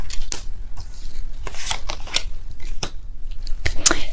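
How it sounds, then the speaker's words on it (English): Tarot cards being shuffled and pulled, a series of quick riffling snaps and papery slaps in irregular bursts, close and fairly loud with no voice. "I will be pulling all the cards."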